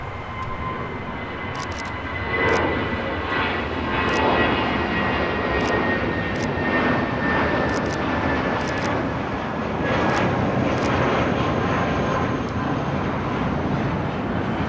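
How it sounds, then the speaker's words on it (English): A JetBlue Airbus A320 jet takes off at LAX, giving a loud, steady engine roar that swells slightly and holds throughout, with faint background noise and no talk. "That is JetBlue Airways Flight 942 taking off to Reno on an A320 in the Puerto Rico Blue livery."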